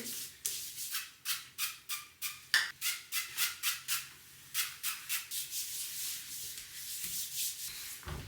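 Oil is rubbed onto dry skin in brisk, rhythmic back-and-forth strokes, each a soft, close swishing rub, repeating steadily with a brief pause partway through.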